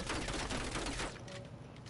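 An LC-10 fires in Call of Duty with a fast, continuous burst of gunfire. It stays fairly faint and tapers off near the end, with no talking.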